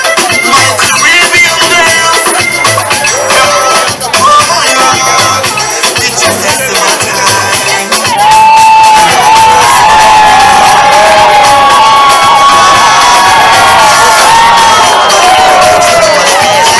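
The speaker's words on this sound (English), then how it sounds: "Give them all a round of applause, please." Large crowd cheering and whooping loudly for contest winners at a televised island festival stage event, a dense continuous roar lasting the whole stretch and swelling after the midpoint, with high shouts and whistles on top.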